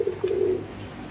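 A young pigeon from a racing bloodline gives one short, soft coo close by, a single brief call with a quiet background.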